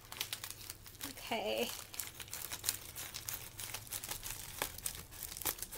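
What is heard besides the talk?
opening a plastic package with scissors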